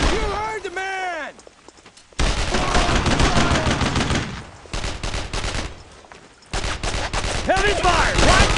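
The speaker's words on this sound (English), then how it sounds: "Put some fire on him! Suppressive fire!" Heavy gunfire in the World War II shooter Brothers in Arms: Road to Hill 30, loud dense bursts of rifle and machine-gun fire nearly nonstop, broken by a couple of short lulls, with shouted voices mixed in.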